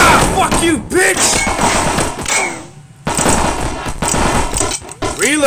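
Rapid Uzi gunfire rattles in the video game SuperFighters, loud bursts mixed with thumps and game effects, a voice shouting over the top.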